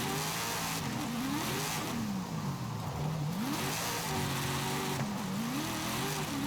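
In Forza Horizon 5, a V8 car engine revs hard through several gear changes, pitch climbing and dropping in a rhythmic pattern, loud and continuous without any speech.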